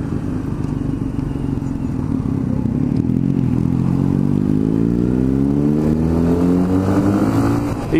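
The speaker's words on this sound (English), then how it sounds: "Loads of accessories on it, including this loud exhaust" A motorcycle with a loud, throaty aftermarket exhaust accelerates steadily, engine pitch climbing through the gears in a continuous close-up roar.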